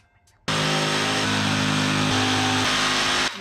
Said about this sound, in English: Cam has jigsaw skills now that he doesn't have a crooked ass blade